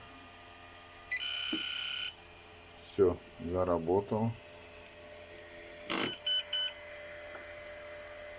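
Short electronic beeps from a chicken egg incubator's open-lid alarm sound in a few quick bursts, with someone speaking briefly between them in a quiet room.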